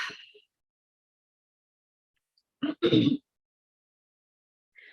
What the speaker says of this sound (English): Also start clearing my throat when I start channeling.